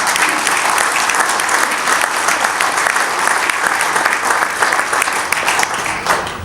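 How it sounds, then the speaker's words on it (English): Sustained applause from an audience at a Missouri bluegrass awards event, dense steady clapping filling the room at close range with no talk over it. "give yourself a big round of applause"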